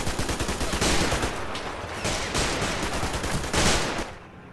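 Machine gun fire in Men of War Assault Squad 2 crackles in several loud, sustained bursts. Dense rapid shots blend into a continuous fusillade, with brief lulls between the volleys.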